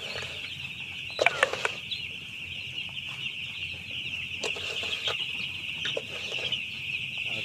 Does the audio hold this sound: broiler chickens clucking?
yes